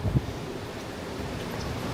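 Steady wind in Iowa buffets the microphone with a low rumbling roar, constant throughout with one brief gust near the start.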